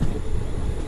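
Passenger train 17219 from Machilipatnam to Visakhapatnam runs along the track near Akividu, giving a short, steady low rumble of wheels and carriage noise heard from on board, with no talking.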